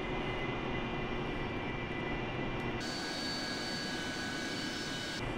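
Steady roar of an AV-8B Harrier jet engine during a vertical takeoff in the DCS flight simulator, continuous and loud throughout, with a brief shift in tone midway and no voices.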